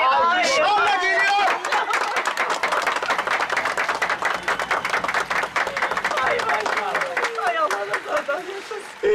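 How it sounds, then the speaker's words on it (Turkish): Clapping and cheerful crowd noise greet a bride arriving at a Turkish neighbourhood wedding celebration, with dense continuous claps and overlapping chatter and voices throughout. "Ve gelin kızımız da alkışlarla geliyor."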